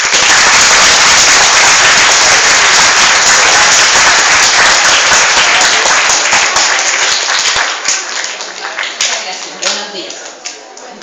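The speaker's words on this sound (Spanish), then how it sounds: "Saludamos con un aplauso" An audience applauds to welcome a lecturer at a talk on Giuseppe Verdi, sustained loud, dense clapping that fills the room and gradually thins out into scattered claps toward the end.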